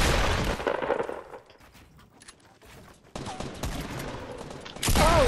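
Pump shotgun shots in Fortnite, with a cluster of loud blasts at the start, a quieter stretch, then more firing and another heavy burst at the end, close and punchy with no talk over them.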